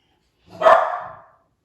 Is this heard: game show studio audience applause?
no